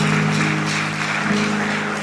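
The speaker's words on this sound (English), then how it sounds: "Please can we make the applause very loud?" An audience at a university inaugural lecture applauds in a steady wash of clapping, with a low hum underneath throughout.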